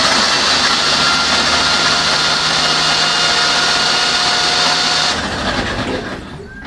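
An engine is cranked over with its spark plugs out, so oil can be pushed from the cylinders, giving a loud, steady whirring drone for about five seconds before it stops abruptly, with a fainter fading tail afterward.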